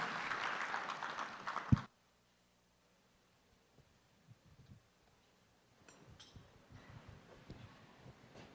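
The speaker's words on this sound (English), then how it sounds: "Give them a fine round of applause as they come onto the stage for me, please." An audience at a corporate anniversary gala applauds as a prayer-song group walks onstage, loud clapping for about two seconds that cuts off abruptly, followed by near silence and faint shuffling.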